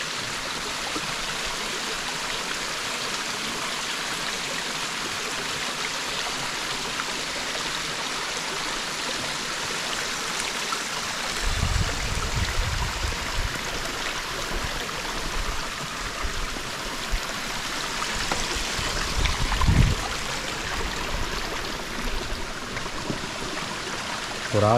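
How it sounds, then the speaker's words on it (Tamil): A small, clear, shallow river flows steadily with a broad rushing wash, close and continuous, with a few brief louder splashes or handling bumps partway through and no talking. "பாருங்கள், இங்கே வந்து ஒரு சின்னதாக ஒரு ஆறு இருக்குது."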